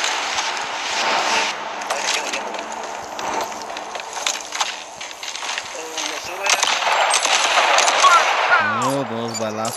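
Rapid bursts of video game gunfire crackle continuously, dense and busy, with a voice talking briefly near the end.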